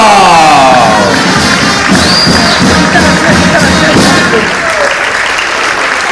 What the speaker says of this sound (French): On peut applaudir les élèves du lycée Monseigneur Chamba.